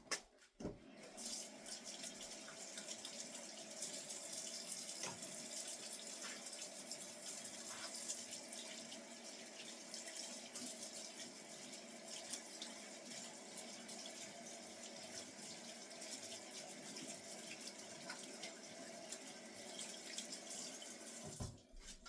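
Hard water runs steadily from a kitchen tap while soapy hands are rinsed, a quiet, continuous hiss and trickle with soft splashing shifts and small clicks at the start and end.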